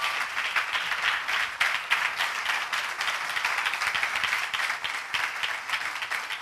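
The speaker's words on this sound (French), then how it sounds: "Tous vos applaudissements, s'il vous plaît." Audience applause welcoming an imam invited to speak at a community event, dense and steady clapping from a crowd throughout, fairly loud and continuous with no voices over it.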